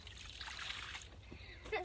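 Water is poured by hand over a freshly caught carp on a lakeside fishing trip, a soft, close trickle and splash, faint against quiet outdoor background.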